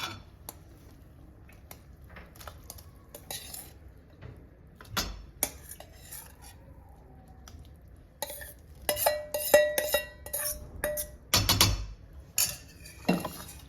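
Potatoes are stirred into a spiced tomato masala in a pan, with sparse clinks at first, then a busy run of spoon scrapes and metal clatter against the pan toward the end, loud and close.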